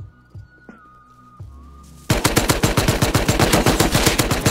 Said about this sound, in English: He must have just got that AK or something.